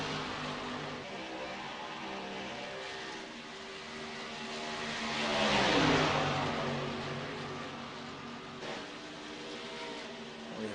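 Pack of race cars from a Talladega qualifying session in a racing video game, a steady engine roar that swells to a louder pass near the middle before settling back to a constant drone.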